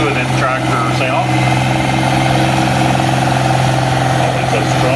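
A loud, steady diesel engine of a 560 tractor with factory turbos drones with a deep hum at an 8000 lb farm stock tractor pull, while an announcer talks over it throughout.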